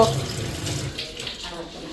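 Running tap water splashes into a sink while food is rinsed under it, a steady close wash of water over a brief stretch.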